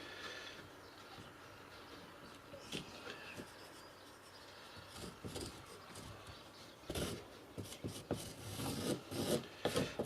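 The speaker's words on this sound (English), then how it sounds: "we're going to etch it in with the Dremel" A Dremel rotary tool etches into a wooden tabletop, giving close, uneven rasping and scraping bursts that come and go in short strokes, quiet at first and then louder and busier.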